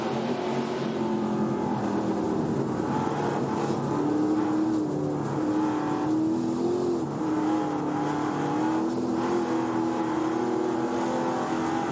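ARCA Menards Series race cars at speed on the Springfield Mile dirt oval, a dense continuous engine roar with rising and falling pitch as the pack passes, loud and unbroken, with no talk.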